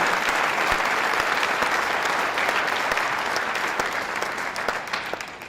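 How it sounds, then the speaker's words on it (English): A room full of people gives a round of applause at a civilian preparedness training event, a thick, continuous clatter of clapping that stays strong before tapering slightly toward the end. "give yourselves a round of applause for what you've done"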